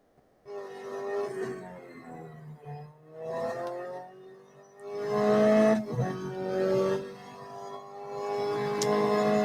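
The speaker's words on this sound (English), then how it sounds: "This car just makes some weird noises." Racing car engine in the Real Racing 3 mobile game, revving and droning with shifting pitch, dropping and surging again as gears change, loud and continuous with no talk.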